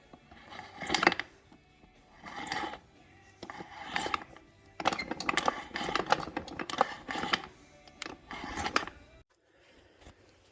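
Bursts of metallic clicking and rattling from a 1990 Ford F-250 transfer case front output spun by hand, repeating in uneven spurts, close up, ending in quiet.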